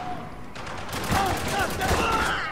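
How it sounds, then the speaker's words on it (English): Rapid gunfire in the video game Spec Ops The Line, a dense burst of overlapping shots that swells loud after a brief lead-in and keeps going. "Open fire!"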